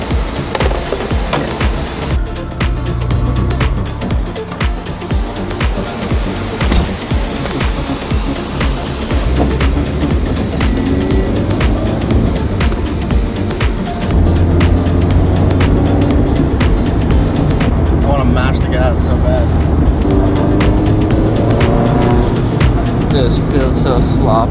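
Turbocharged Scion FR-S driving, a steady engine and road drone running loud and continuous throughout, with rising intensity in the second half.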